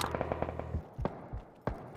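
Gunfire in a competitive shooter video game, a rapid burst of automatic shots followed by two sharper single reports, moderately loud with no talk.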